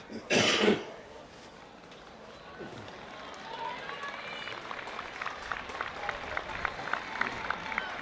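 Crowd at a school camogie/hurling final, the Senior C All-Ireland between Our Lady's Templemore and Portumna, breaking into applause that builds gradually into steady clapping after a short loud outburst, with a commentator speaking over it.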